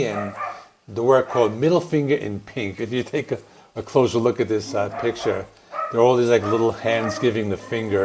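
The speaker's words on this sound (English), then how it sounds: "Please excuse the dogs. They always bark when I'm recording." Dogs bark in the background at home, several sharp yaps scattered beneath continuous close talking from a man discussing an album.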